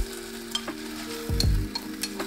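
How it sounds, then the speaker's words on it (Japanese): Chopped ingredients including bok choy drop into a pot of boiling chicken-stock soup with a brief splash and bubbling, followed by light clinks and stirring, close and fairly loud with no voices. "でこんな風に沸騰してきたらさっき切った具材を入れます。"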